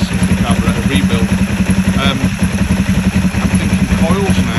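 Kawasaki ER5 motorcycle engine idling after a carburetor rebuild, a loud, close, steady rapid thrum with a mechanical clatter running evenly throughout.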